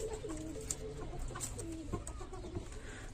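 Pigeons in a coop, where a chick has newly hatched, give soft, close cooing and a few short chirps over a low background hum.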